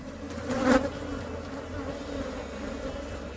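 Honey bees swarm noisily around an opened beehive, a dense close buzzing with one loud bee passing right by early on, then a steady hum continuing throughout.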